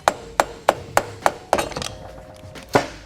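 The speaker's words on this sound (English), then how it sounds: "So I applied some penetrating oil, grabbed my soft face dead blow hammer, and asked for some help." A soft-face dead blow hammer knocks on a scooter engine cylinder soaked in penetrating oil, landing about six evenly spaced sharp thuds, then a scuffle of smaller clatters and one last loud blow, close up with no talk.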